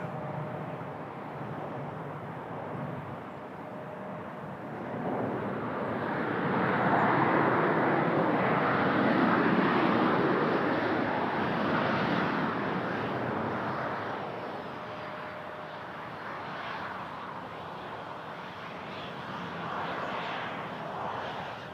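An aircraft passing at Toronto Pearson airport, a moderate engine rumble that swells to a peak midway and then fades, with no talking.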